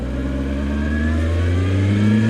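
A Triumph Speed Four motorcycle engine pulls steadily, its loud, smooth drone rising in pitch as it accelerates through the gears, heard alone and up close.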